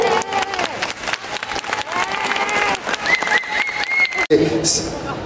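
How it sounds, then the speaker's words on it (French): Applause from the audience at a 2010 beauty pageant selection in Lyon as contestants are escorted off, sustained clapping with some cheering, broken by a brief dip near the end. "On les raccompagne sous vos applaudissements."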